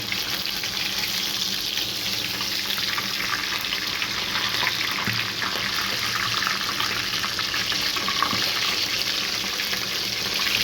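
Whole chickens deep-fry in a large amount of hot oil, a dense, loud, continuous sizzle and bubbling hiss that stays even throughout with no voices.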